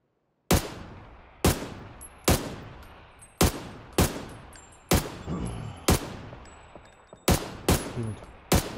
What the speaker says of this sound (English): Getting shot from the left and right.